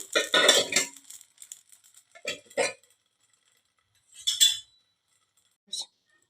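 A lid goes over a thick dosa cooking on a griddle pan, making a few close metallic clinks and clatters in short bursts between quiet pauses.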